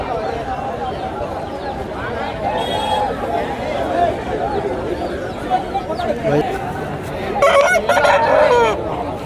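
Native country chickens cluck and chatter throughout at a village market with people talking over them, and a rooster crows loudly near the end.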